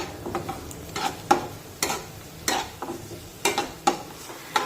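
Crushed garlic sautés in a pan with a soft, continuous sizzle, broken by regular clinks and scrapes of a spoon stirring every half second or so, close and clear with no talking.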